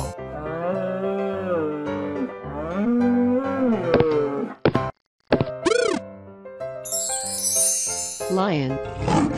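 A cartoon lion lets out a short roar amid a busy children's animal-sounds sequence, surrounded by other voiced animal calls and bright music, with a brief gap of silence just before it.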